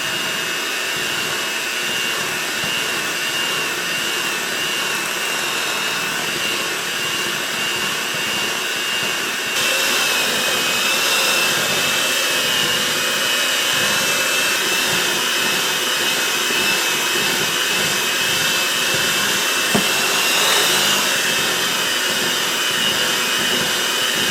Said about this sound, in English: Then we're just going to mix that up.